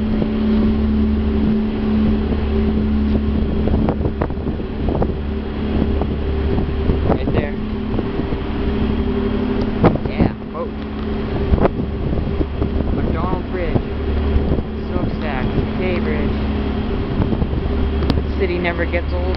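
A steady low engine drone with gusty wind buffeting the microphone from a Halifax Transit ferry underway, with a voice talking over it at times.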